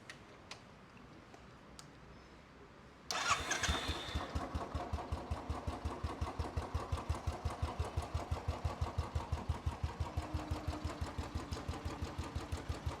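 A modified Royal Enfield Classic 350 motorcycle with a custom muffler starts up after a quiet moment, then settles into a loud, steady, rapid chugging idle with an uneven thumping pulse.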